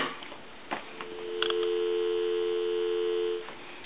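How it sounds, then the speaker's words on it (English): A steady dial tone on a GTE Starlite telephone hums continuously for about two seconds after a few brief clicks, clear and close, with no talking. "There's some dial tone."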